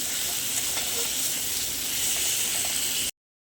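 Cauliflower fries in oil in a pan with a steady, close sizzle and hiss that holds evenly for about three seconds before cutting off.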